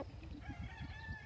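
A rooster on a large breeding farm in the Philippines gives a single short crow, faint and distant-sounding.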